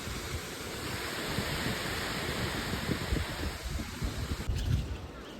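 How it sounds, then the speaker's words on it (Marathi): Gusty wind rushing and buffeting outdoors among coconut palms as a storm approaches, a broad steady roar with rumbling gusts growing slightly stronger toward the end. "वारा येतोय"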